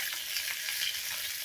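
Eggs frying in a pan on a village stove while being stirred, a soft, faint crackling sizzle with light stirring scrapes over a brief moment.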